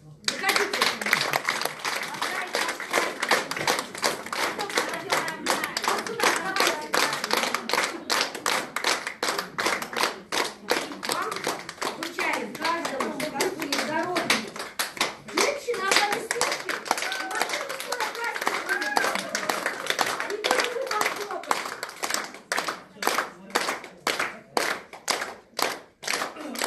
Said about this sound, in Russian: Давайте мы сейчас под аплодисменты вызовем сюда всех мужчин.